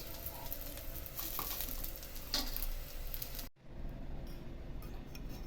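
A stuffed bajra rotla roasts on a hot pan over a high gas flame, pressed and turned: a continuous close sizzle with light taps and a faint clink, briefly cutting out before the sizzling resumes.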